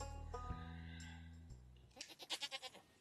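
A goat bleats in a farming video game: a quick run of wavering bleats near the end, following a few seconds of soft tonal game music and chimes.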